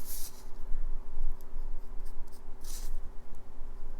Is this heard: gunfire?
no